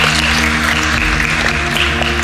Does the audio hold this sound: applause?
yes